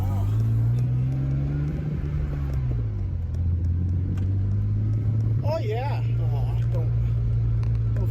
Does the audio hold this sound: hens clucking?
no